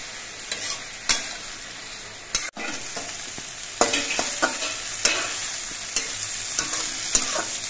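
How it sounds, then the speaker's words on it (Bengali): Water lily stems frying in a pan with salt and turmeric over a medium gas flame, a steady loud sizzle broken by repeated scraping clicks of a spatula as they are stirred, with no talking. "এবার নুন হলুদ দিয়ে নেড়ে মিশিয়ে নিতে হবে আর শাপলাগুলো কিছুক্ষণ ভেজে নিতে হবে।"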